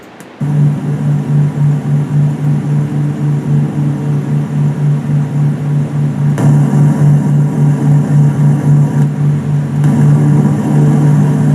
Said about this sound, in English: B-17 sound, high quality ASMR sound.